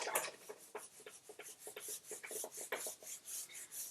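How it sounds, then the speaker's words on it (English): An eraser rubs across a board to wipe off geometry writing, making faint, quiet scrubbing strokes in an irregular back-and-forth rhythm. "So I'm going to erase this."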